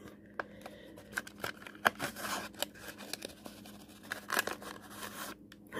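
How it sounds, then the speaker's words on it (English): Scissors cutting open the plastic packaging of a mystery bag, with a close run of irregular snips and crinkles over a few seconds. "Let's cut these open and see what we got."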